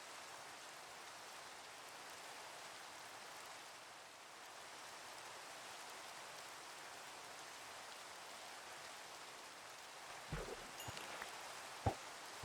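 Steady rain in Minecraft, a soft continuous hiss of falling drops holding level throughout, with a few brief faint clicks near the end.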